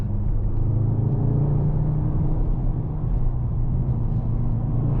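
The V8 biturbo engine of a 2024 Mercedes-AMG GT 63 S 4-Door Coupe drones through a power slide out of a corner, a steady, deep rumble heard from the cabin throughout without talk.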